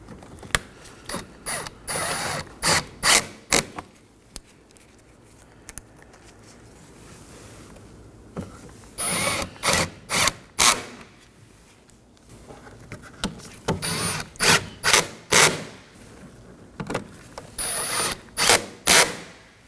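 A hand ratchet clicks in quick bursts while snugging down four T30 screws on the upper cowl of a 2014-2023 Ford Transit Connect 2.5L, close and crisp, with pauses between each screw.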